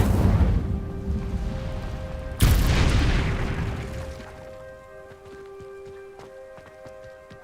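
The Incendio fire spell cast in Hogwarts Legacy: a heavy rushing blast with a sudden loud whoosh midway, then a fading rumble under soft ringing game tones and faint clicks.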